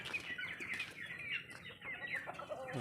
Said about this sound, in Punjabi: ਵੱਡੇ ਮੁਰਗੇ ਆ ਕਰਦੇ ਉੱਧਰ